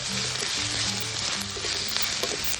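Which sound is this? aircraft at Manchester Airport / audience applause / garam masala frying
garam masala frying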